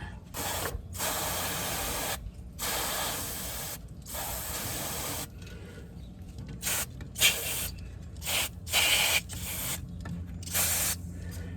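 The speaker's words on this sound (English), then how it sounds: "we're gonna spray this both front and back really well with penetrant" Repeated bursts of penetrant lubricant spraying from an aerosol can onto CV axle parts of a 2011 Toyota Highlander, several long and short sprays separated by brief pauses, close up with faint mechanical clicks between them.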